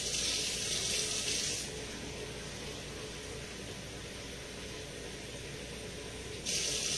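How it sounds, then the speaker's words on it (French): Water poured from a tap into a cooking pot holding fish, a steady hissing stream that runs loud at the start and end and softens in the middle, with no talk over it. "Je vais ajouter un peu d'eau"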